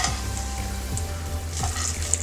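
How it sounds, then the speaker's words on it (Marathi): Chopped dry fruit pieces roast in a spoonful of ghee in a kadhai, giving a continuous soft sizzle with a few scraping stir strokes; no talking. "तुपात 1 ते 2 मिनिटं थोडं परतून घेऊया."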